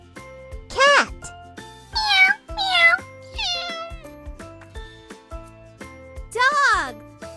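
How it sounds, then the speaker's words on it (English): Several cat meows in a row, loud and close, with short pauses between them over a light musical backing. "Cat."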